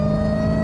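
A Dodge Hellcat engine holds a steady high-pitched whine and revving drone, close and loud through a brief burst.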